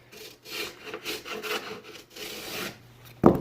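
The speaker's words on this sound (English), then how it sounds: "See, it's taking that little lip. That is a little groove, but this planer takes that off" A hand planer shaves the raised lip off a laminate flooring edge in a series of short, dry rasping strokes, close and fairly quiet, ending with a sharper knock.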